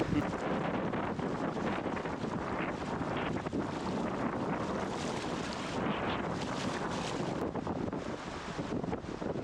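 Steady, loud wind buffeting the microphone, with a fast-flowing river and boat noise underneath in the Käsivarsi wilderness, continuous throughout.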